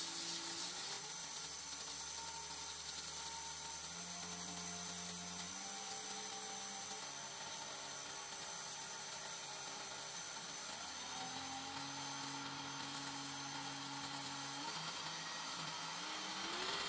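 A wood lathe spins an American walnut pen blank at high speed, giving a steady loud motor whine and hum whose pitch shifts as the speed changes, with no talking throughout.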